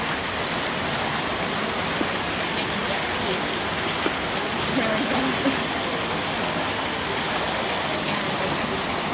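A fountain keeps splashing in a steady, loud wash of water close by, with a few faint tapping knocks mixed into the even roar.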